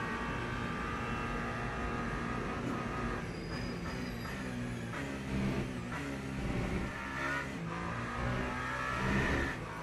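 Multi-class race cars, LMP2, LMP3 and GT3 machines, in the Le Mans Ultimate racing game, rev and roar continuously as a dense pack of engines, loud and steady throughout, with rising and falling engine pitch.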